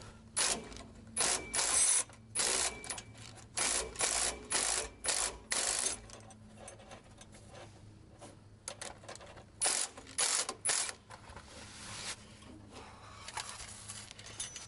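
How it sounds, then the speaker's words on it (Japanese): A car jack being lowered with an impact driver set to maximum power, using a homemade impact adapter: bursts of loud, rapid ratcheting mechanical rattle, roughly a dozen short runs in quick rhythm, with quieter clicks and pauses between. "インパクトドライバーを最大パワーに戻してジャッキを下げます。"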